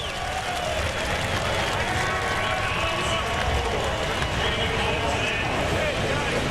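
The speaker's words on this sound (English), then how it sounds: "Listen to the crowd." Crowd roaring at a Top Fuel drag race in Chicago, a continuous wide noisy swell of cheering from a large outdoor grandstand, steady and loud throughout.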